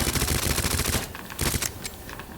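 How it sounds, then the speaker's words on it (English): A fast, continuous stream of gunshots from a magazine emptied into a zombie in Resident Evil 2, close and loud for about a second, then a few scattered follow-up shots. "I mag dumped him in the face and maybe missed like 2 bullets"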